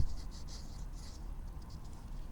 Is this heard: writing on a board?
yes